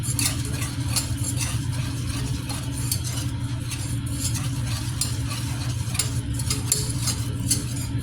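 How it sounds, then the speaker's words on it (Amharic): Thick béchamel sauce being stirred steadily in a pan, a continuous low scraping and churning with faint clinks of the spoon against the pan, close and alone without talk. "እንደ ገንፎ መታሸት አለበት።"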